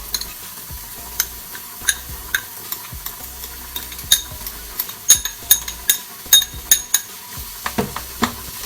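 Ground pork stir-fries in a pan while pasta is cooked, with a soft sizzle beneath repeated sharp scrapes and clinks of a utensil against the pan, irregular and close, with no talking.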